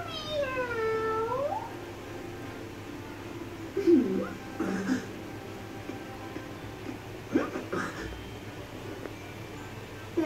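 A stray cat in the video game Tales of Graces f meows in a rising, drawn-out cry at the start, followed by quieter scattered sounds against a soft background.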